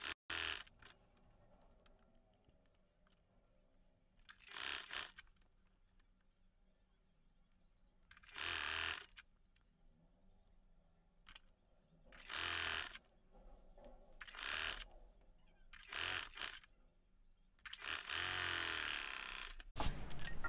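A sewing machine stitches a baby frock in short separate bursts of rapid mechanical whirring, each lasting a second or two with quiet gaps between, close and clear with no talk over it.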